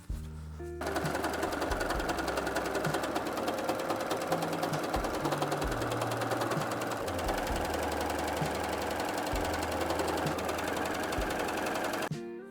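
A sewing machine stitches suede for a bomber jacket in one long continuous run, a fast loud mechanical whirring and rattling that starts abruptly and stops near the end, with no talking.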